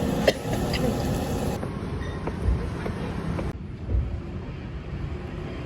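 A low, steady rumble of a moving Seoul outer circle line train carries on throughout, with occasional clanks and shifts in the noise as it rolls along.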